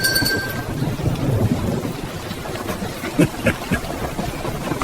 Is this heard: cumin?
no